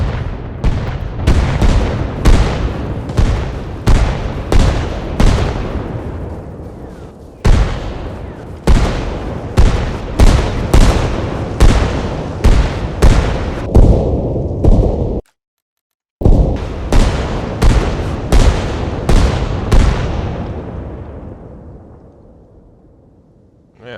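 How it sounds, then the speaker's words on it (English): An artillery barrage in the game Arma Reforger pounds a forest, a rapid string of heavy booming blasts with rolling tails, dozens in quick succession, loud and close, ending in a long fading rumble. "so we'll do, let's say, a large barrage here"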